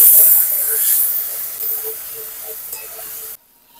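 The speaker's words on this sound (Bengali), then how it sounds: "এবার আলুগুলো খুব সুন্দর করে ভেজে নেবো।" Salted, turmeric-dusted potatoes fry in hot oil for a Bengali vegetarian banana-flower dish, a bright steady hiss up close that fades slightly before cutting off abruptly near the end.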